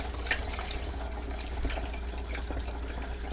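Phytoplankton culture water pours close by in a steady splashing, gurgling stream, continuous for a few seconds.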